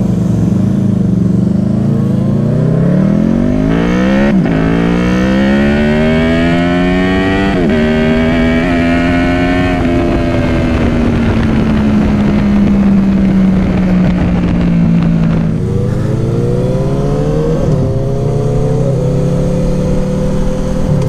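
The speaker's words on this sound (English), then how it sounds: "His bike sounds nice, doesn't it?" A motorcycle engine revs loudly and close by as the bike pulls away, its pitch climbing and dropping repeatedly through gear changes across a long, continuous run.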